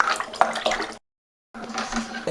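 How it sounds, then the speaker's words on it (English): Tap water gushes into a bucket for making lime margarita wine, a steady rushing splash heard close, broken by a short silent gap before the pouring resumes. "I'm going to be filling up my bucket to the rest of the volume of the wine"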